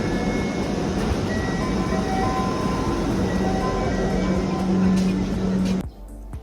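Inside a crowded Dhaka Metro Rail car waiting at a station before departure, a loud, steady mechanical hum carries faint tonal whines, then cuts off abruptly near the end.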